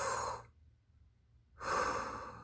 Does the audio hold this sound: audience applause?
no